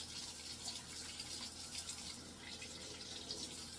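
Tap water runs steadily while a straw is rinsed after scrubbing with a long-handled bottle brush, a soft, continuous faucet flow with light splashing, no talking.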